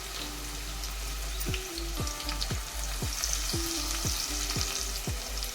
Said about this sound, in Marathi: आता त्यामध्ये एक बारीक चिरलेला कांदा टाकायचा आहे त्यानंतर लसूण टाकायचं आहे